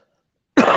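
A single short, rough cough from a man who has been unwell and coughing through the smoke, close and fairly loud, bursting out after a moment of silence.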